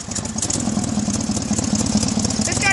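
A tractor with an 18 hp Onan V48 engine runs at a steady idle, with a close, continuous low chugging rumble and a faint mechanical clatter throughout.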